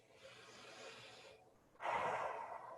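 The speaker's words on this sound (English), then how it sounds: "take a deep breath" A person draws in a slow, deep breath through the nose, then lets out a louder, longer exhale, close and quiet with no talking.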